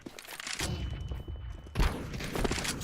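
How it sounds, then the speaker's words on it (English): A flashbang grenade goes off in a video game, heard as a sharp burst of blasts followed by a ringing tone and a muffled stretch, then loud gunfire-like crackles resuming. "Throwing flashbang."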